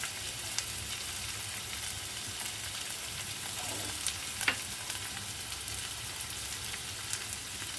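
Chopped onions frying in a pan for egg curry, a quiet steady sizzle with a few light stirring scrapes, heard close up without talk.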